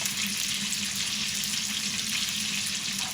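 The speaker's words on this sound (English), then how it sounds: "it has to fry and get it as crispy, as tasty as possible in a very hot oil" Constant, dense crackling sizzle of chicken searing in very hot oil in a frying pan, heard close and alone with no talking.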